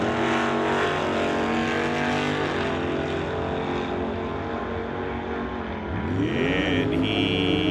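Drag race cars, including a blue and silver 1967 Plymouth and a Chevy II, roaring loudly side by side down the strip toward the finish line, a dense sustained engine howl that dips then surges again near the end.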